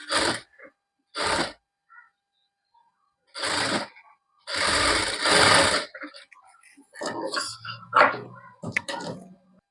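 A sewing machine stitches folded-in nightie fabric in several short, close bursts separated by pauses, followed by quieter, irregular handling noises.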